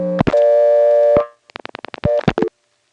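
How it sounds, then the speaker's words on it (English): A steady telephone dial tone from a 1977 step-by-step exchange in Siler City, North Carolina sounds, then stops, and a quick run of evenly spaced step-switch clicks from dialing a 6 follows before a few more short tone bursts. "Now here's the sound of picking up the Siler City step and dialing a 6."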